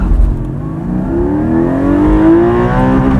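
A 2020 Porsche 718 Spyder launches hard under launch control, its engine note rising steadily as it pulls through the revs, a loud, continuous near-field roar with no voices over it.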